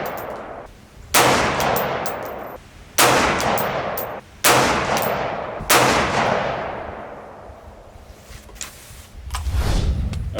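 Rifle shots from a 224 Valkyrie at an outdoor range, four loud sharp cracks spaced about one to two seconds apart, each with a long fading echo, then a low rumble at the end.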